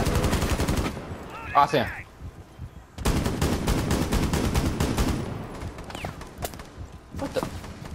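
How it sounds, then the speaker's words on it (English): Gunfire rattles in Rainbow Six Siege, with rapid sharp shots in bursts, a pause, then a longer stretch of sustained fire and scattered later shots, while players talk briefly. "You getting shot? Yeah, I got shot."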